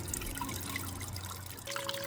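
Water trickles and burbles steadily through a Blue Bowl gold concentrator, a close continuous liquid flow with faint dripping and a thin tonal hum, no voices.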